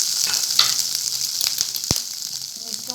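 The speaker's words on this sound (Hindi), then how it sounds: "देखिए लहसुन को मैंने सौते कर लिया" Garlic sizzles steadily while being sautéed in a pan, a close, even hiss with a few small pops and one sharp utensil tap, and no one speaking.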